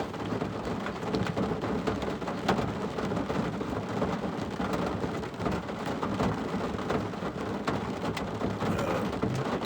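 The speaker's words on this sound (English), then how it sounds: "That sound you hear is rain falling on the roof of my truck." Rain drums steadily on a truck roof, a dense, loud, continuous patter with occasional heavier thumps and no talking.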